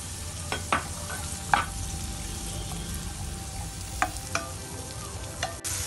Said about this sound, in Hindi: मटर ऐड कर देती हूँ और थोड़े से इनको सौते कर लेते हैं, थोड़ा सॉफ्ट हो जाए